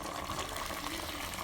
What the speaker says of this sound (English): now I'm just gonna add boiling water from the kettle